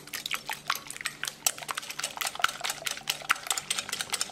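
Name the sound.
beating marinade of eggs and black pepper with a whisk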